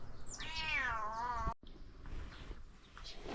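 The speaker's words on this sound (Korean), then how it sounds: "밥 달라고 지금 울고 있네요." A cat meows for food at a rural farmhouse in the Gangwon mountains; it is a mother cat that has become tame. One loud, close, drawn-out wavering meow is followed by a sudden gap and then softer, quieter cries.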